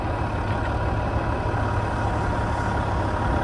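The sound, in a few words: log truck idling while unloading wood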